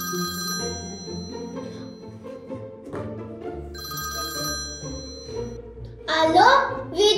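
A telephone rings in two repeated electronic bursts with a pause between, followed by a short excited voice at the end.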